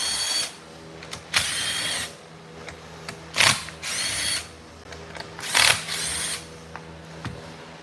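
Power tool work on a Stihl top-handle chainsaw as a cover is removed to reach the ignition coil: loud, separate whirring bursts of a driver, each lasting about a second, nearby over a faint steady hum, with no talking.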